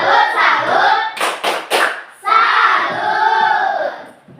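A school class performing the tepuk salut clapping chant, voices calling out in unison with a quick run of sharp group claps in the middle, loud and close.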